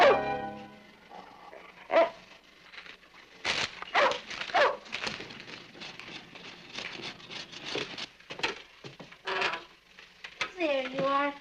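A pet dog named Tiger barks and yips in a family home during a sitcom scene. Short barks are scattered among voices, music and other household sounds, and a whimpering cry comes near the end.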